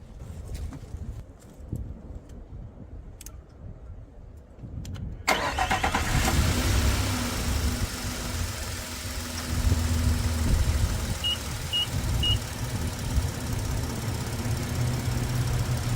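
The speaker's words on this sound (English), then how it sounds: "So let's start the vehicle up." A car engine cranks and catches, then settles into a steady, fairly loud idle close by, with a quiet stretch of faint ticks and rustles before it starts.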